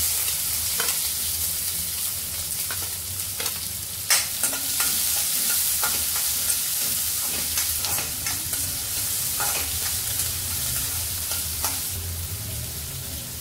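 Chopped onion fries in hot oil with mustard seeds and cumin in a kadai on a gas stove, stirred throughout: a steady close sizzle with scraping stirs and an occasional louder clink of the spoon against the pan, with no voices.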